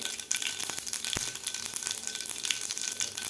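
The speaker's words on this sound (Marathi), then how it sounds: "तेल आपलं गरम झालेलं आहे यामध्ये घालायची आपल्याला मोहरी मोहरी आपली व्यवस्थित फुललेली आहे नंतर घालायचे आपल्याला जिरे" Mustard seeds and cumin sizzle in hot oil in a pan, a close, steady crackling hiss dotted with sharp little pops and spits, with no voices over it.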